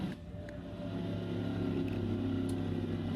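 NASCAR race car engine in the Forza 6 racing game at the Sonoma road course, a sustained droning engine note that builds slightly and holds steady throughout.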